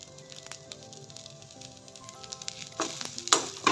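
Chicken frying in a pan with Schezwan sauce gives a soft, steady sizzle that swells louder toward the end, with light stirring scrapes over the hiss.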